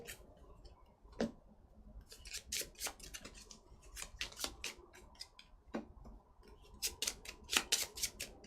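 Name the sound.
shuffling a deck of board game cards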